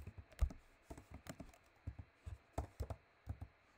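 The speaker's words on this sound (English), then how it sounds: "sorry, clicking buttons." Computer keyboard typing and button clicking, a rapid, irregular series of close, light clacks and taps in a quiet room.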